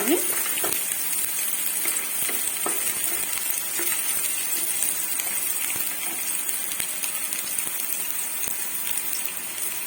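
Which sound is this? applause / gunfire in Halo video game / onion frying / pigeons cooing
onion frying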